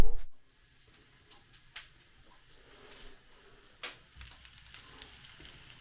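Little sausages fry in a pan with a soft, steady sizzle and faint crackle, quiet and close, with a few louder spits and pops.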